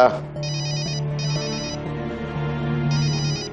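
A telephone ringtone trills in repeated electronic bursts in a home setting, fairly loud and close, over a steady musical background.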